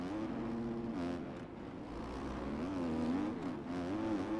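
Motocross bike engine in the MX Bikes supercross game, a continuous buzzing drone whose pitch rises and falls as the rider shifts and works the throttle through whoops, moderately loud and alone.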